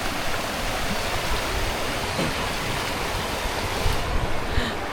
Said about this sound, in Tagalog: Yung agos ng tubig oh. Ayan, naririnig yung tubig na yan.